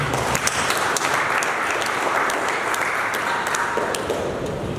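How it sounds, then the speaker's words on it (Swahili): A gathering of craftsmen's association members applauds together in a hall, a dense, steady wash of many hands clapping with scattered sharper claps, sustained at even loudness throughout. "Naomba tujipigie makofi."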